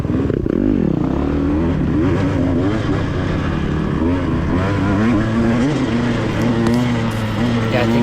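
Four-stroke motorcycle engine revving at a Twin Hills track day, loud and close with rising and falling pitch sweeps over several throttle blips, a voice talking over it.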